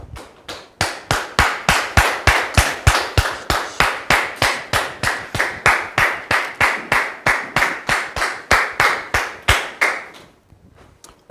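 On a studio set, an audience claps in unison, a steady rhythmic beat of loud, close hand claps repeating about three times per second for roughly ten seconds before stopping.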